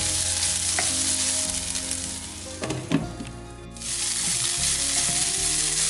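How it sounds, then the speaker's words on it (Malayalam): Onions sautéing in a pan for chicken thoran, a loud, close, steady sizzle with stirring scrapes clustered near the middle, then a dip before the frying hiss returns at full strength. "നമ്മൾ സവാള വഴറ്റാൻ വെച്ചത് ആയിക്കൊണ്ടിരിക്കുന്നു, ഒന്നും കൂടി ആവാനുണ്ട്"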